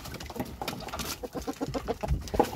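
Hens let out of their coop cluck in soft, irregular bursts at moderate distance, with rustling and outdoor background noise around them.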